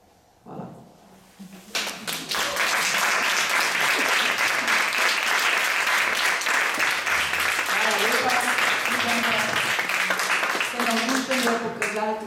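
An audience at a symposium at the Domžale Straw Hat Museum bursts into sustained, loud applause after a brief voice, a dense steady clapping that continues evenly to the end.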